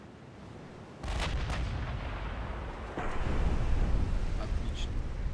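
Warship guns fire in the naval battle game Ultimate Admiral Dreadnoughts: a sudden heavy boom, a second blast a couple of seconds later, and sustained rumbling gunfire that keeps building in loudness.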